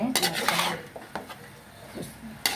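Fried rice being stirred and tossed in a cooking pan, with sharp metallic clinks and scrapes of a utensil against the pan, some louder strokes, and quieter shuffling between them.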